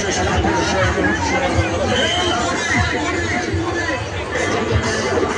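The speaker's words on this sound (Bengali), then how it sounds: "মেলাতে দেখো আস্তে আস্তে ভিড় হচ্ছে" Steady crowd chatter and babble around a busy food stall at an evening fair, many voices overlapping close by and fairly loud throughout.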